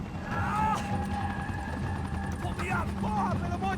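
Helicopter rotor drone from the Max Payne 3 video game hums steadily at moderate level under game dialogue, with mechanical whirs and brief tonal sweeps mixed in.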